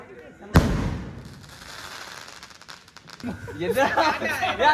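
A sharp firecracker bang goes off close by during Diwali celebrations, followed by crackling bursts and a lingering rumble, then excited voices and laughter.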